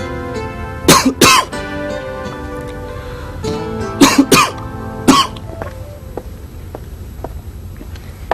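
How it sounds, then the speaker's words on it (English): Several loud coughs from a bad cold come in pairs and small bursts, close and raspy, separated by quiet stretches with a faint background hum. "I'm coughing every 5 minutes."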